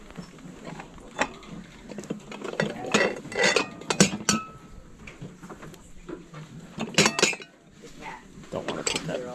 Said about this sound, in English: Yep, punch bowl set. It's all glassware.